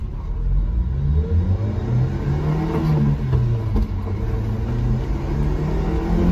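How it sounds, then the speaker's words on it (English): A Subaru Sambar truck engine revs steadily upward through its range, a loud, smooth rising drone with a deep rumble underneath. "the truck is just moving through those RPMs like butter"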